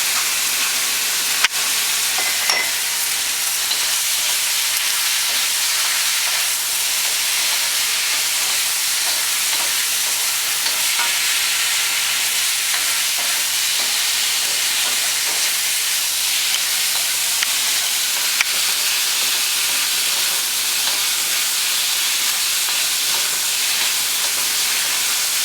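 Continuous loud sizzling hiss of beef stir frying in a hot pan, steady throughout with occasional faint scraping clicks.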